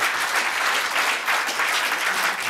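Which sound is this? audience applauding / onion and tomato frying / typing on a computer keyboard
audience applauding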